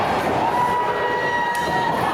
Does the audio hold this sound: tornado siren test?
no